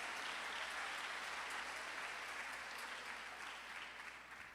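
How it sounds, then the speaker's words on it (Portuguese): A congregation claps in a church service, a soft, even wash of applause that sounds somewhat distant and fades a little toward the end. "Se for para aplaudir Jesus, aplaude com força."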